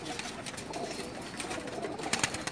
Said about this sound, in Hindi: ये कबूतर है जी जिसका शौक करवा रहे थे